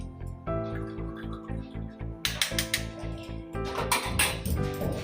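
A spoon stirring tea water in a pot, with rhythmic metallic scraping and clinks that get louder and brighter partway through, alongside a steady tonal hum.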